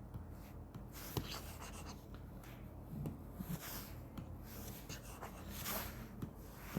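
Marker or chalk scratching on a board during a math lesson, short irregular strokes with faint rubbing between them, quiet and close, no talk.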